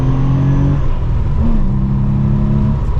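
1997 air-cooled Porsche pulling hard in second gear, a loud, dense engine drone heard from inside the car, its pitch shifting slightly as revs build across three seconds.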